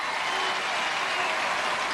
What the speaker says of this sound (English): Louis, Laverne's dad, leads the applause